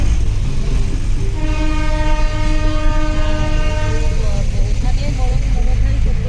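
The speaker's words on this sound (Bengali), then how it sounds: "আর একটা ট্রেন যাচ্ছে এখানে, টয় ট্রেন, পরপর দুটো যাচ্ছে।" A Darjeeling toy train passes close by and sounds a loud, sustained horn for about three seconds, over steady engine rumble and the noise of a queue of waiting traffic.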